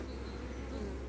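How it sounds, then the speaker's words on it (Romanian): Honeybees arriving with pollen at an MER hive: a dense, steady buzzing hum of many bees, close and continuous throughout. "Ia uitați cum vin albinuțele cu polen"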